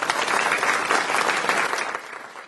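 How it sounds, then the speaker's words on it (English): Canned fake applause: a dense, steady wash of crowd clapping that holds for about two seconds, then thins and fades out. "the fucking fake applause"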